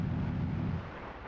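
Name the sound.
string of high drag bombs exploding in F-4E flight sim video game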